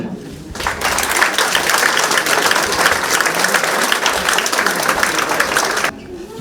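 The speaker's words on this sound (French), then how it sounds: "Je pense qu'on peut les applaudir." An audience at a hospital gathering claps for the children in a burst of loud, even applause that starts sharply, holds steady for several seconds, then stops abruptly.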